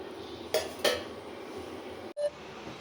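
Chili, coriander and turmeric powder with salt are stirred together in a bowl, producing two faint spoon-on-bowl clinks and scrapes close by, then a brief later knock, with no talking.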